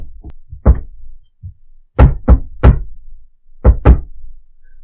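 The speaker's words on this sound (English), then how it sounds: "And then Torian will knock a certain way" Knocks on the door of a decrepit-looking house in a set pattern: a few scattered raps, then a quick group of three, then two more, loud, close and dry with pauses between, no voices.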